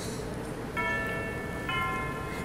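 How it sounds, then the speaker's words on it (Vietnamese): A clock chimes in a Paris By Night comedy sketch, two ringing bell-like tones struck about a second apart over a noisy room background, moderately loud. "Tiếng chuông đồng hồ đổ."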